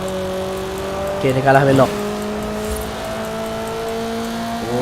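Stock Honda Civic engine in a racing video game, a steady tonal hum with a brief rising rev burst partway through, heard under continuous talking.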